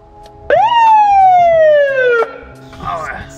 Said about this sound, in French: Donc d'abord la sirène du gyrophare.